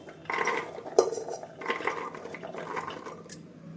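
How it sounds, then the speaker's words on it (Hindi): Clattering and rattling of soaked chickpeas dropped into a metal pressure cooker, with a few sharp knocks and scraping, close and moderately loud. "अब एक प्रेशर कुकर ले लेंगे और भीगे हुए चने को इसमें डाल देंगे पानी हटा करके"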